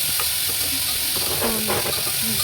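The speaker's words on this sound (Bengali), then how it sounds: "এখন পেঁয়াজ দিব, দিয়ে এই যে পেঁয়াজ নাড়াচাড়া করছি" Onions sizzle and hiss steadily as they are stirred in a pan with boiled chickpeas, a loud, close, continuous fry broken by a few scraping strokes.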